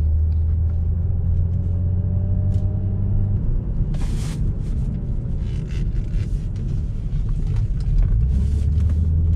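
A newly bought car cruises along a road, giving a steady low rumble of engine and tyre noise with a few brief bumps and rattles, close and continuous and with no talking.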